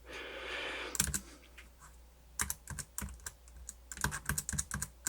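Keys clatter on a newly installed Lenovo T460 laptop keyboard in irregular bursts of quick taps, close up, with brief pauses between.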